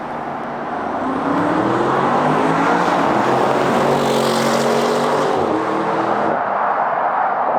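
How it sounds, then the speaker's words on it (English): A 2021 Audi RS6 with a Milltek exhaust roars past, dropping down to second and then shifting up to third. The engine note climbs, breaks at the gear changes and fades as the car moves away, loud with no talk. "Ben's on his way past now. He's going to drop down to second and then shift up to third."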